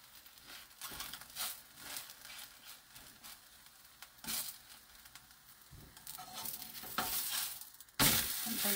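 Cabbage and buckwheat pancakes sizzle and crackle in an oiled pan, a steady close fry broken by scraping, stirring touches and a sharp burst near the end.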